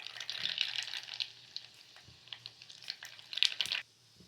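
Mustard seeds sizzle and crackle in hot oil while tempering for a mixed vegetable sambar, with a steady close frying hiss and sharp pops before it cuts off abruptly.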